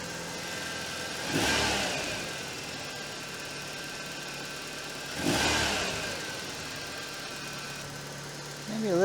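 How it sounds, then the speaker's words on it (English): Merkur XR4Ti turbocharged engine and exhaust revving twice, each rev a loud swelling rise and fall over a steady idle, heard close up with no talking. "Let's go back and listen to the exhaust."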